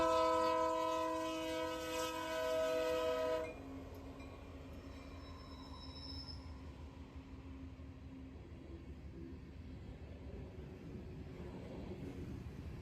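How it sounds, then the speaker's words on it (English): A freight train on the Norfolk Southern main line sounds a long, loud horn as it nears a grade crossing, then rolls past with a steady rumble of wheels and cars over the rails, a faint squeal near the end. "As this train passed"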